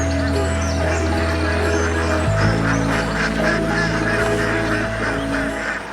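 A flock of farmed ducks in Kerala paddy fields, a dense chorus of honks and quacks mixed with a steady hum, loud and continuous throughout.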